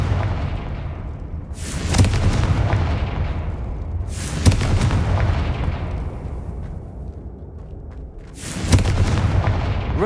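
Confringo spell blasts in the Hogwarts Legacy video game. Three loud, deep booming explosions come at intervals, each a sharp burst followed by a long rumbling decay over steady low game ambience.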